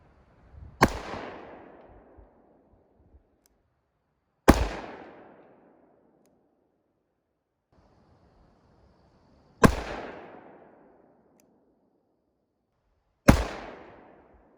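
Four loud, sharp revolver shots from a Taurus 605 firing .357 V-Crown rounds, spaced several seconds apart outdoors, each with a quick echoing decay into silence.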